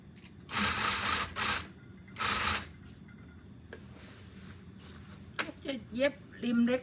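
A sewing machine stitching a small edge seam, with two short bursts of rapid close stitching followed by someone talking.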